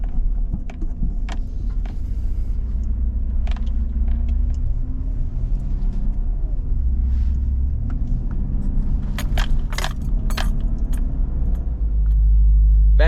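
A car rolls along a road with a steady low rumble of engine and tire noise, interior rattles and clicks scattered over the top, and a louder surge of low-end roar near the end.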